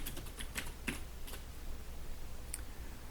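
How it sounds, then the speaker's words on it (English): Computer keyboard typing: a quick scatter of light, fairly close key clicks in short bursts over a steady low room hum, with no one speaking. "Let me type that in."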